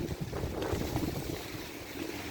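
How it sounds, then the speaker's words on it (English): Wind buffets the microphone in a continuous rumbling roar with gusty fluctuations and no clear voices, outdoors among potted fruit trees. "Oh, man, it's windy today."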